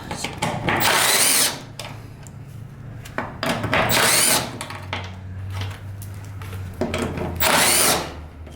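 A power tool, likely a drill or impact driver, removes the six bolts on a fuel pump cover of a cheap used 4x4 truck in three loud, close bursts of about a second each, with quieter working noise between them.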